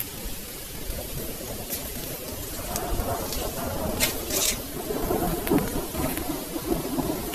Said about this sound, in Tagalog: Ayan, umuulan na mga lodi ko.